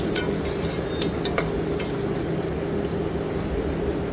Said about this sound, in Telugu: రెండు పచ్చిమిర్చిని చిన్న చిన్న ముక్కలుగా కట్ చేసి బాండీలో యాడ్ చేసుకొని ఒకసారి కలుపుకోండి